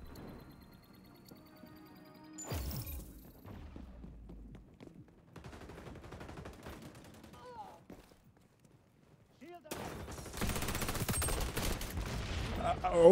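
Rapid bursts of automatic gunfire in a shooter video game crackle in short clusters, with a dense, sustained volley toward the end and a player talking over parts of the action.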